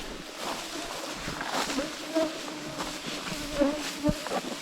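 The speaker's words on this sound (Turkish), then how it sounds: "Abi sineklere bak." Flies swarm around people on a walk to sacred trees in Yakutia, making a dense, continuous, close buzz that rises and falls under steady conversation and laughter.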